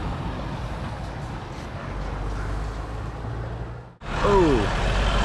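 A large truck roars past close by on a road, a loud sustained rumble that builds and then cuts off sharply, followed by renewed engine and road noise with a brief whining tone, heard outdoors with no voices.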